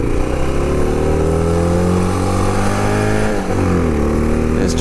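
A Honda XR650L motorcycle cruising on the highway, its single-cylinder engine droning loud and steady with constant wind rush and a brief dip in pitch partway through.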